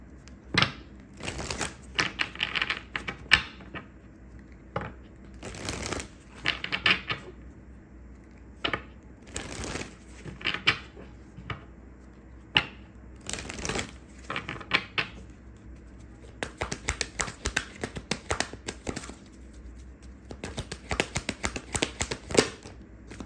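Tarot-style cards being shuffled by hand, with close, crisp riffling and flicking bursts in irregular clusters, alongside soft taps and handling noises.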